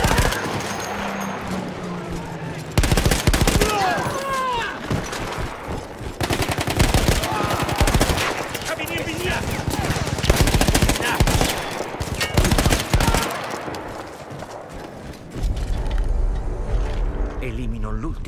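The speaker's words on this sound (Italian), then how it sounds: "Sul costone vicino c'era un cannone antiaereo che decimava i nostri velivoli." An anti-aircraft gun fires in Battlefield 1, loud rapid bursts of automatic fire broken by short pauses, with other battle clatter around it.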